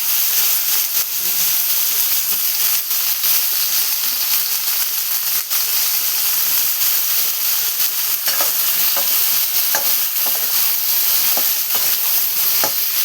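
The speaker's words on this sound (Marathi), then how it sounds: "जे वांगे आपण कापून ठेवलेले ना ते वांगी आपण टाकून देऊया" Eggplant fries in a pan with onion, garlic and turmeric, a loud, continuous close-up sizzle and hiss, with occasional soft scrapes from stirring.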